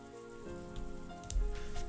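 Rain falls in a soft, steady patter in the Umineko visual novel, faint and continuous beneath low tonal music with a few brief louder thumps.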